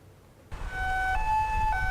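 A 119 ambulance siren starts abruptly and wails loud and close, switching back and forth between two tones over a low rumble of the moving vehicle.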